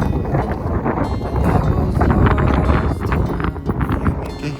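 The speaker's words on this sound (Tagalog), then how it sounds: "makikita nyo kung gaano kalakas yung hangin ngayong araw." Strong blizzard wind in Winnipeg, Canada, roars in a loud, steady rush and buffets the microphone with gusts, heard alone with no talking.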